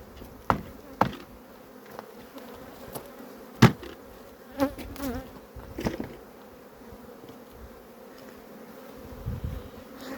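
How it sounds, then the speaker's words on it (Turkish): Honeybees from weak, varroa-damaged colonies buzz steadily as a hive is shaken out, a continuous close hum punctuated by a few thumps and knocks of the wooden hive, with no talking. "Kovanı da silkeliyoruz önüne. Arılara zarar vermeden."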